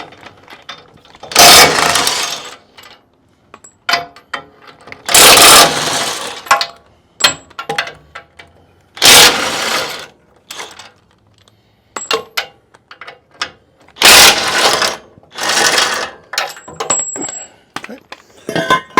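A ratchet wrench removes the 18 mm bumper hook bolts on a 2019 Ford F250, giving loud, close bursts of metallic clicking that repeat with quieter pauses between them.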